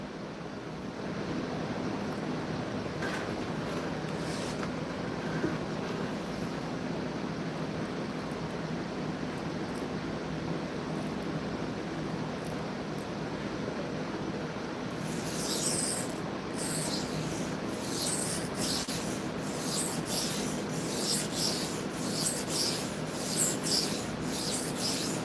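Steel knife scraped back and forth across a Cheefarcuut 400 grit vitrified diamond stone, a continuous close gritty rasping wash that turns into more distinct repeated strokes partway through.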